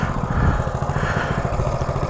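A Coleman CT200U pit bike engine runs close by, a loud, steady, chugging single-cylinder putter with an even rhythmic pulse throughout.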